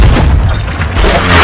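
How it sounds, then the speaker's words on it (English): Ship cannons fire in the pirate video game Sea of Thieves, a loud, dense, rumbling boom that fills the whole moment with heavy low-end blast energy and no clear gaps. "Oh, cannons."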